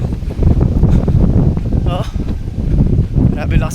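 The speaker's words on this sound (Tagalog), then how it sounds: "Lakas ng hangin guys." Strong northeast monsoon wind buffeting the microphone during an outdoor jog near a plaza, a loud rumbling roar in uneven gusts, with a voice speaking over it.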